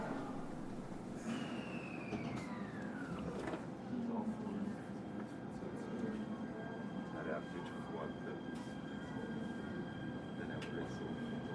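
A one-man Oito Line local train bound for Minami-Otari pulls out of Matsumoto station: a rumbling carriage drone, a descending whine from the motors, and scattered clicks and clunks, with some talking in the background.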